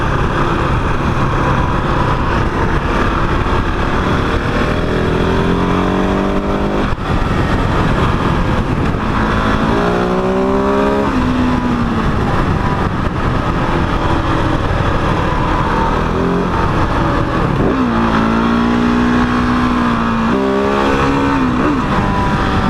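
A 2021 KTM 690 Enduro single-cylinder motorcycle on a country road test ride, its engine loud and close, rising through the revs with quick-shifter gear changes marked by brief dips before climbing again.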